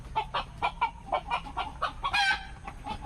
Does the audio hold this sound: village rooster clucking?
yes